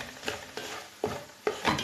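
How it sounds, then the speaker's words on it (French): Oxtail and okra sauce is stirred in a pot with about five separate scraping strokes, soft and close, with quiet pauses between them and no voices. "Donc on mélange tout ça ensemble."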